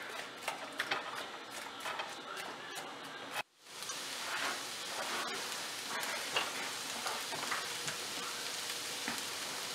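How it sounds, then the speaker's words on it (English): Chopped onions frying and sizzling in oil in a pan, a steady crackling hiss with scattered pops, briefly cut off for a moment partway through before resuming at an even, close level. "we got it sizzling a little bit here"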